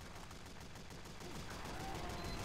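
Sustained rapid gunfire from a Team Fortress 2 match, a dense continuous rattle like a minigun filling the whole stretch at steady loudness.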